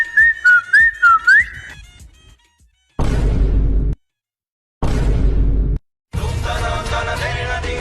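A person whistles a short, bright wavering tune at the start. After a pause come several loud, broadband bursts of sound with sharp cutoffs between them.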